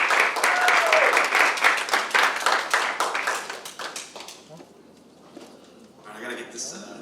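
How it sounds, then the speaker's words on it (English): A business alliance meeting audience claps for a speaker, a loud burst of applause for about four seconds that tapers off, followed by quiet and then faint sounds near the end. "But you guys, I want you guys to give a nice round of applause for Mr. Mike Edwards, a.k.a. Mike the Cop."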